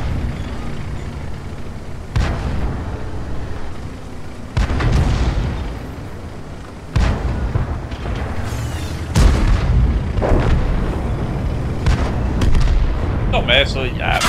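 Tank cannons fire in World of Tanks, with several heavy booms spaced a few seconds apart amid rumbling engine noise during battle. A player talks over much of the action.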